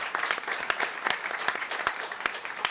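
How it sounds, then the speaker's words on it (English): Audience applause at a Climate Week NYC welcome session on regenerative food systems, a steady dense patter of many hands clapping for about three seconds, fairly close, with no talking over it. "Give them a round of applause."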